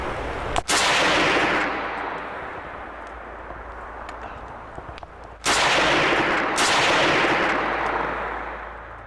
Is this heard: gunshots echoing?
yes